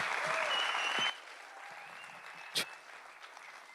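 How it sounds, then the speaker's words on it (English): An audience at a school's 20th anniversary establishment day gives a round of applause, a dense patter of clapping that drops off after about a second into fainter scattered claps. "a huge, huge round of applause"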